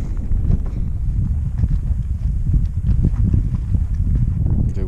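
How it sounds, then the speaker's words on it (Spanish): Horses walking through a marsh while grazing on tender grass, a steady shuffle of hooves and rustling plant sounds, close and continuous, no voices. "Yeguarizo comen el pastito tierno en el bañado."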